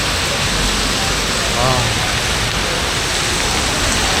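Heavy rain pours onto a street in Phuket's Walking Street nightlife district in Thailand, a loud, dense, unbroken hiss that fills the whole scene, with a brief voice surfacing midway.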